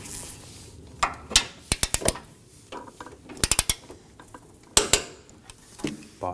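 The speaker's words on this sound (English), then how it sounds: "We're going to torque these down to 37 foot-pounds in an alternating pattern." A torque wrench tightens the front bumper bracket bolts on a 2020-2027 Toyota Corolla to 37 foot-pounds, giving sharp metallic clicks in quick clusters of two to four separated by short pauses, close and with no talking.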